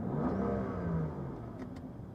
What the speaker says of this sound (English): let me give you guys some revs and let you hear the intake from inside the cabin